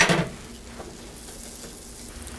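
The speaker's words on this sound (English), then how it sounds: "I'm just going to saute the mushrooms, which will cook in 2 to 3 minutes" Mushrooms sauté in butter in a pan, giving a steady soft sizzle after a brief louder clatter at the start, with no talking.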